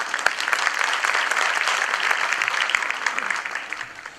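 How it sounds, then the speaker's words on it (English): Audience applause fills a primary school Grade III event, a dense, steady wash of many hands clapping at moderate loudness for about four seconds, tapering slightly toward the end. "Can we have a big round of applause for all these wonderful accomplishments?"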